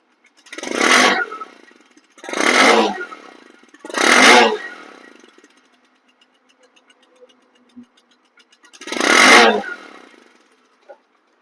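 A second-hand Bajaj Discover 100cc motorcycle engine revs in four short, loud bursts, the first three in quick succession and the last after a quiet pause, with no talking.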